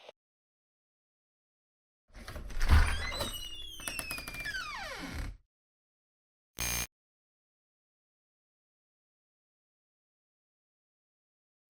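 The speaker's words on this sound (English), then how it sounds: "Door." A video game door sounds alone: a burst of creaking, scraping noise with sliding tones lasts about three seconds, and a short sharp thud follows after a pause, with nothing else around it.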